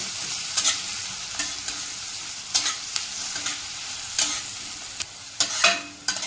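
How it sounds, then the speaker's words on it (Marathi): Masala fries in a pan with tomato, giving a steady close sizzle punctuated by repeated scraping strokes of a spatula, irregular and fairly crisp. "त्याच्यानंतर हा मसाला टाकायचा आहे आपल्याला चांगला परतून घ्यायचा"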